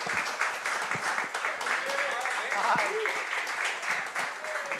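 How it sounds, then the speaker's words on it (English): A studio audience applauds a young man after a coach talk segment, steady dense clapping that fills the moment, with voices speaking over it. "a round of applause, everybody?"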